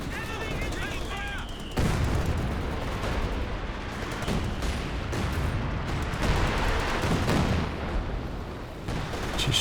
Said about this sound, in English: howitzer fire into the base region from the Axis